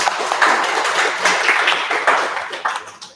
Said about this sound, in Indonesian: Beri tepuk tangan buat Bang Ruby.